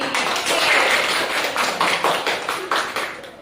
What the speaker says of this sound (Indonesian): kalau benar kita beri aplaus lagi